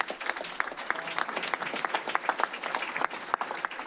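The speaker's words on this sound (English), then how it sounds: "Let's give them all a big round of applause." An audience at a school board meeting claps steadily, dense overlapping hand claps from a mid-sized crowd in a room, fairly even throughout.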